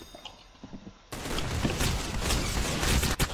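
Gunfire from the Roblox game Arsenal begins abruptly after a quiet start, then a dense, steady run of rapid shots continues to the end at moderate loudness.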